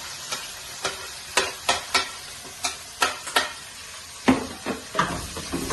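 Onions sizzle and fry in a pan while a spoon stirs them, giving a run of sharp scraping strokes over a constant hiss.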